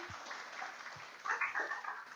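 A church congregation applauds the Lord at a Sunday service, a soft, steady spread of clapping heard from some distance, with a brief swell of voices partway through.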